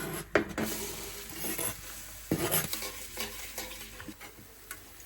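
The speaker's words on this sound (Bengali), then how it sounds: "প্রথমে তেল দিয়ে নিই আর এখন দিব পেঁয়াজ কুচি আর মরিচ কুচি" Chopped onion and green chili frying in oil in a pan for an egg bhujia, with a steady soft sizzle broken by several clattering stirs and scrapes of a utensil against the pan.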